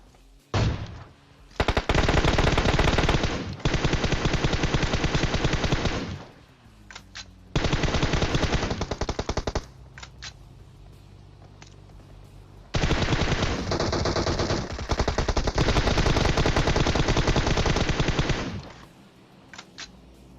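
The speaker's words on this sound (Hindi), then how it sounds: "मैं साइड से खड़े होके गोलियां पेल रहा हूं" Automatic gunfire rips out of the mobile battle royale PUBG Mobile in long, loud sustained bursts. Short gaps and a quieter stretch fall between the volleys, and there is no talk over them.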